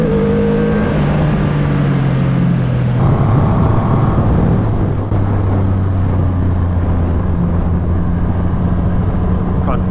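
A 2020 Triumph Rocket 3 motorcycle engine under way on the road, a loud close drone that shifts pitch as it changes gear and settles into a steady hum with wind rush.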